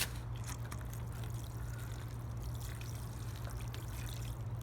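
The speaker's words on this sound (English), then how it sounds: "I've got some water here, and you want to incrementally add the water." Water is poured into plaster mix in a steady, soft trickle that runs the whole time, close and quiet, over a low rumbling hum.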